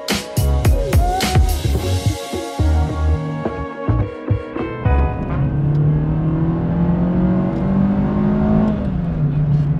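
Renault Clio Williams with a naturally aspirated 2.0-litre 16-valve engine, heard close up as it is blipped in a run of sharp revs, then held at a steady, rising drone as it warms up.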